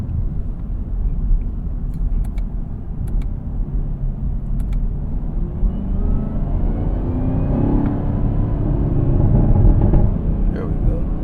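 A Chevrolet Camaro ZL1 with a 10-speed automatic rumbles and revs from inside the cabin, a steady loud engine drone rising gradually with a few brief sharp pops, while a person talks over it.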